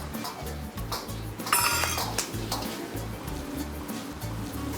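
Lobster stir-fried and tossed in a wok, with a repeated rhythmic clatter of metal scraping and clinking over a constant sizzling hiss and a brief louder burst midway.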